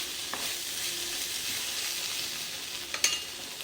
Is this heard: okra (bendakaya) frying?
yes